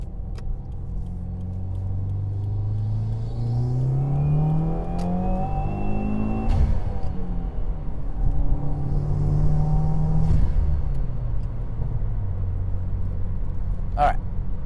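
A car climbs through its gears while merging onto a highway, its engine rumble rising and falling in steady loud pulls with a brief whir, running continuously close up.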